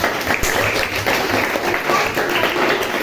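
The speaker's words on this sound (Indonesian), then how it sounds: "berikan tepuk tangan dulu kepada" A classroom of students claps for a group presentation, a short burst of close, busy applause with a few voices mixed in.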